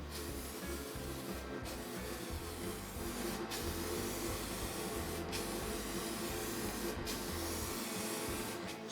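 Aerosol spray can of Nitorlack paint spraying a guitar body: a continuous loud, airy hiss in several long bursts, each broken by brief pauses between passes.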